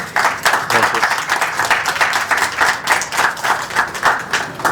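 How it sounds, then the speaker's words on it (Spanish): Audience at a book fair talk in Guadalajara clapping vigorously, close and loud, with uneven rhythmic bursts of hands throughout. "por favor, un aplauso grande a los 3."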